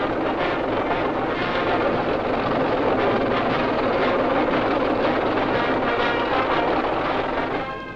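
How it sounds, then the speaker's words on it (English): Avro Vulcan jet bombers pass over a 1958 military parade, a loud, sustained broadband roar that stays constant throughout on an old recording. "These are British Avro Vulcan jet bombers."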